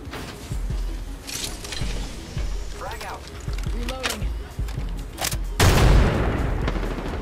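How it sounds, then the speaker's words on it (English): Gunfire in the battle royale shooter Apex Legends: scattered booming shots and bursts mixed with game effects and mechanical clicks, under frequent player voice chat, with a louder blast near the end. "I hear gunshots"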